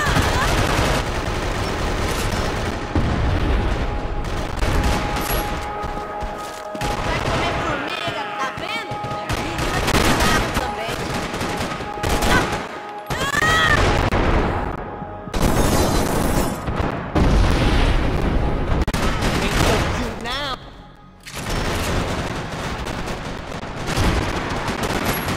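Gunfire from a Max Payne 3 multiplayer free-for-all deathmatch: dense bursts of shots and booms run almost continuously and loud for the whole stretch, with only a brief lull near the end and game voices mixed in.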